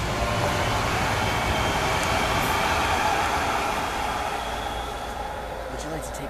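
A train rolling past in a neighborhood, a steady loud rumble and rushing noise that holds for several seconds before easing slightly toward the end.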